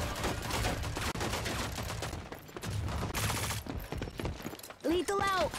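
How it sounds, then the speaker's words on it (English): Sniper fire and other gunshots from the video game Rogue Company crackle through a busy, dense game mix, with overlapping shots and effects and a voice heard briefly near the end. "Sniper shot at me from the point."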